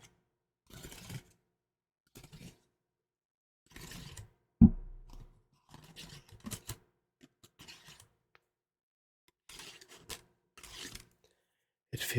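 Scissors cut a Magic: The Gathering card in short separate snips and rubbing strokes with silent gaps between them, plus one sharper louder snap partway through, close and quiet, without any talking.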